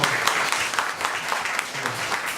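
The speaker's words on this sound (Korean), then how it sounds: "박수 한번" An audience claps together in a hall during a concert talk event, a dense, fairly loud burst of applause lasting a couple of seconds.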